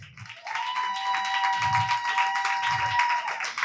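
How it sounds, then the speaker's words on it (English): An audience gives a round of applause at a documentary event honoring guests, steady dense clapping filling the room for several seconds, with a low tone held underneath and brief voices murmuring in the background. "Can we give everyone a round of applause?"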